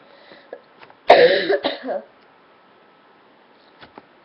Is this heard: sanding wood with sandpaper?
no